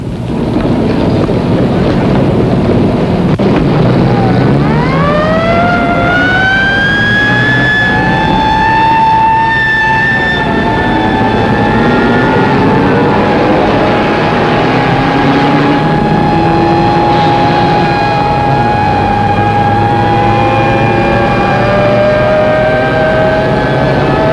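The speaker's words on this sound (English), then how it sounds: "Big Easy 3-7 with number 4 engine on fire will make an emergency landing on runway 27 left" A four-engine transport plane, its number four engine on fire, comes in for an emergency landing on runway 27 left at Tempelhof, Berlin, in 1950. Loud continuous engine drone with rising and falling whining tones sweeps through, close and alone.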